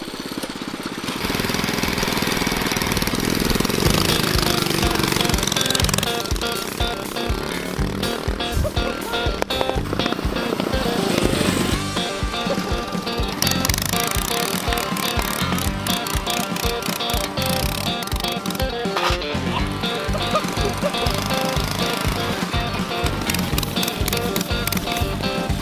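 A mini bike with a swapped Predator 212 engine roars through a drag race, its loud, steady, rasping engine note rising and falling with throttle and filling the whole stretch.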